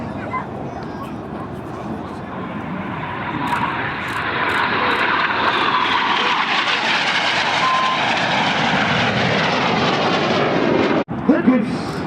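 Red Arrows display jets roar overhead at Farnborough Airshow 2014, a loud sustained engine rush that swells and holds before cutting off abruptly, with a commentator talking over it.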